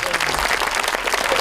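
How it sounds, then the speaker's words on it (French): A school theatre audience gives a short burst of dense applause, many hands clapping together at close range. "On peut s'applaudir pour ça."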